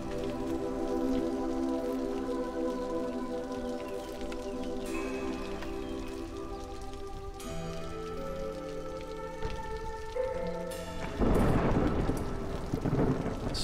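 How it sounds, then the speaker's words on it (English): A thunderstorm with rain in the city-building game Against the Storm: steady rain hiss under soft musical tones, then a louder burst of thunder and heavier rain toward the end. "Storms are coming."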